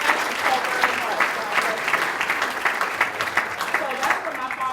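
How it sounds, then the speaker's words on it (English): Warm audience applause at a Martin Luther King Jr. breakfast, many hands clapping in a steady, fairly loud wash that holds evenly with scattered sharper claps, with speech faintly audible beneath it. "Let's give them all a round of applause"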